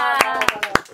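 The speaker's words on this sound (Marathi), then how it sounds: "मयूरसाठी नाही का टाळ्या" A few people clapping indoors at home, four sharp, close claps spaced about a quarter second apart, mixed with a voice talking.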